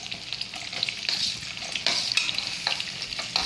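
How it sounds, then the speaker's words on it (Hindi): Onions sautéing in hot oil for kadai paneer give a steady, moderate sizzle with crackling bursts, plus occasional scraping from stirring, and no voices. "तो तेल हमारा हो गया है गरम, यहाँ हम अपनी प्याज को सौते करेंगे इस तरह से"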